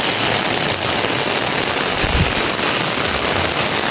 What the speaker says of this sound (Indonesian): Ini hujannya bukannya semakin reda, tapi makin deras teman-teman.